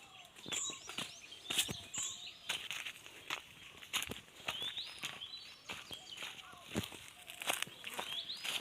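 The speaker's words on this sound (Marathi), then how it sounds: "चिमण्यांचा किती आवाज आहे बारीक बारीक एकदम" Small birds chirp in quick, high twitters over an outdoor background, with scattered short clicks and taps mixed in.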